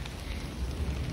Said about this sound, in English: But it's raining right now, and that's so cool.